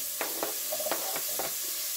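Calabresa sausage sizzling and being stirred in a pan, with soft crackling bursts and scraping strokes at a fairly quiet level, alone without speech.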